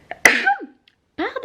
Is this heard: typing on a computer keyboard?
no